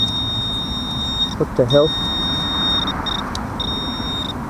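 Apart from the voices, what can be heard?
metal detector pinpointer beeping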